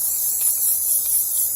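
An aerosol can of crystal clear gloss sprays in one continuous close, loud hiss, used to make spray art, with no talking.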